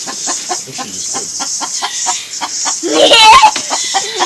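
A broody hen in a chicken coop clucks in steady, rapid repeated pulses, close and fairly loud, then breaks into a brief squawk near the end.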